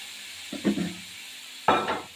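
Water poured into a pan of sizzling ground mustard, poppy seed and tomato spice paste for a pabda fish curry, giving two short bursts of hiss and clatter, close and moderately loud, with no talk.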